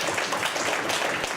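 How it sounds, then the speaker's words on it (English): An audience applauds at a Helpfest event, a brief steady burst of many hands clapping together at close range. "Everybody give Meredith a round of applause"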